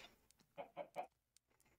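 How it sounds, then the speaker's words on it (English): Chickens in the Minecraft video game cluck in three close, distinct bursts, with a few fainter clucks and small noises before and after in a quiet setting. "you can hear the chickens, and you can see them pop their little heads through"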